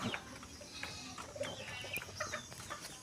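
Native chickens, a hen with her chicks, give soft continuous clucking and small peeps, quiet and fairly close.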